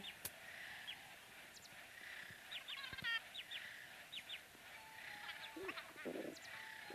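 Small video-game bird chirps and tweets in Animal Crossing Pocket Camp come in short scattered bursts, faint and somewhat distant, over a quiet background with occasional soft knocks.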